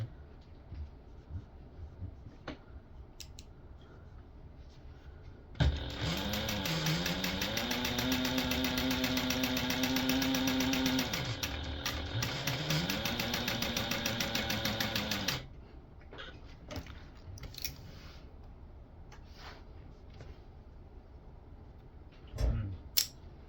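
A sewing machine runs steadily for about ten seconds as it top stitches a tote bag panel, its motor hum rising and falling slightly. Quiet handling clicks and rustles come before and after the stitching.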